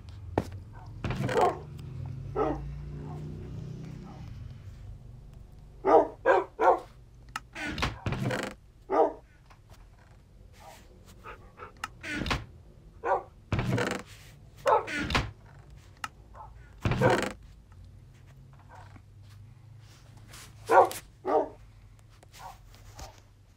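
Dogs (wolves) in the video game Minecraft, a series of short sharp barks spaced irregularly, some in quick pairs, over a quiet low background with a few soft thunks.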